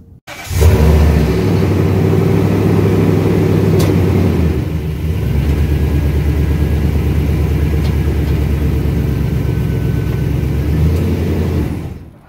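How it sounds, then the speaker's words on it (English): A Nissan Titan pickup truck's engine cranks and catches, then runs with a loud, steady low rumble. The pitch dips briefly partway through before it settles into an even idle up close. "So I'm going to go ahead and turn the car on."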